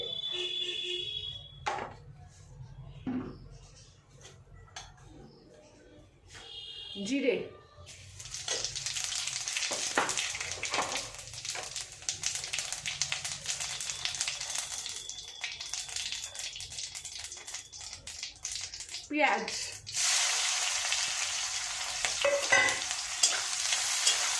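Fish roe fritters fry in hot oil, a soft sizzle that swells louder after a few seconds while a utensil scrapes and stirs at intervals, the whole sound fairly faint and close.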